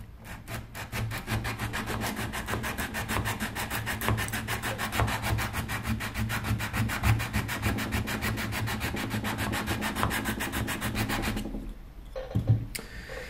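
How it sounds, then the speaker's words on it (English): Steady back-and-forth sanding of a wooden shim for a bass guitar neck, a continuous rhythmic rasping scrape of even strokes, close and loud, stopping near the end with a couple of faint knocks. "That way I know exactly where I've been sanding."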